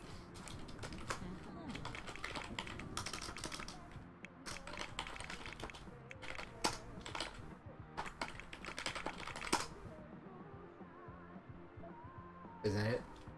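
Someone types on a computer keyboard in quick, irregular bursts of clacking keystrokes with short pauses between them, close and fairly quiet, while a person talks now and then.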